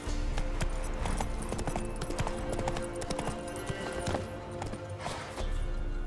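In The Witcher 3, a horse's hooves clop rapidly in a galloping rhythm, loud and close, with game ambience and occasional snorts layered in.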